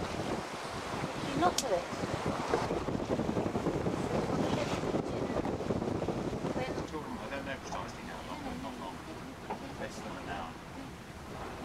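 Steady wind roars across the microphone on a sailboat under mainsail with the engine off, and waves wash against the hull beneath it. A person speaks briefly near the end.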